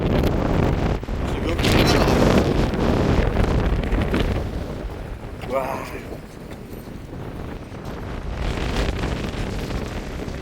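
Strong gusting wind on the East Sea coast during a shore fishing trip for black sea bream, a loud, continuous roar buffeting the microphone and swelling and easing over the whole stretch.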